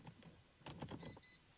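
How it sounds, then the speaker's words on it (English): Power-folding mirrors on a 2003-2009 Dodge Ram fully loaded mirror install fold inward, a short quiet electric motor whir, close by, followed by two brief high beeps. "Up will fold them out, back will fold them in."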